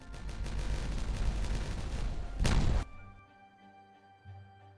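Explosives detonating at a dam in the building game Timberborn, with a dense rumbling roar building to a sharp loud blast that cuts off into quiet, leaving a faint tonal background.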